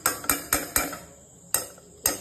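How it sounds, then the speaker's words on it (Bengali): A metal spoon clanks against a pot while boiled corn is stirred with ghee: six sharp, close knocks, four in quick succession, then a pause before two more, with no voices. "ঘি দিয়ে মিক্স করব।"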